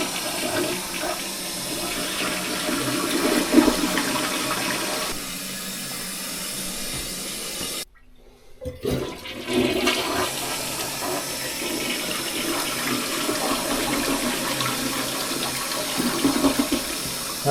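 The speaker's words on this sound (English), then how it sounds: "Oh, you're flushing." Household toilet being flushed during plumbing service work after clearing a clog: a loud, continuous rush of swirling water that cuts out briefly midway, then resumes and keeps roaring steadily.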